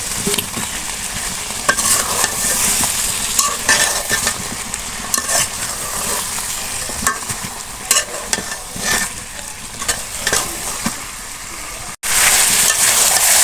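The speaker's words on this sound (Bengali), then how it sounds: "আমি কিছু গোটা রসুন দিয়ে দিচ্ছি রসুনের দানা গোষ্ঠটা আমার কষানো হয়ে গেছে প্রায় সিদ্ধ হয়ে গেছে আমি কিছু আলু দিয়ে দিচ্ছি" Potatoes and whole garlic cloves are stirred into chicken browning in a pan, giving a loud, continuous sizzle with repeated scraping and clattering of a spoon against the pan. The scraping rises and falls rhythmically, with a short break near the end.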